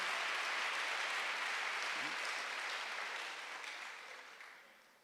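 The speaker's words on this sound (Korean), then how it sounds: "빨리 박수하세요." A church congregation claps during a Sunday worship service, a dense, steady wash of applause that holds strong and then gradually tapers off toward the end.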